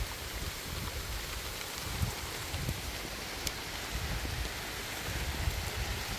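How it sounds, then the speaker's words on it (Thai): Rain pours down steadily in a dense, even hiss, with scattered drops pattering against surfaces nearby; no one speaks. "ฝนมาแล้วฝนมาแรงเลยค่ะ"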